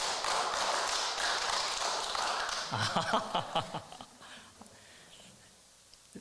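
An audience claps together in a rhythmic pattern, first a thick, steady wash of many hands, then it breaks into scattered, distinct claps that thin out and fade, with faint murmuring voices underneath.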